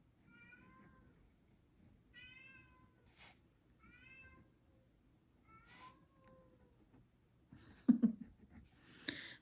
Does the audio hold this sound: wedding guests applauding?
no